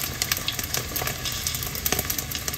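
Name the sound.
pork skin chicharon deep frying in oil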